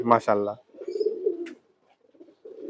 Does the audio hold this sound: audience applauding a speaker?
no